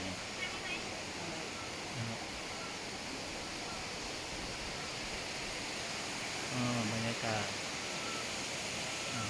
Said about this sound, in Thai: มีเสียงลำธารน้ำตกจากวัดแม่กำปองนะครับ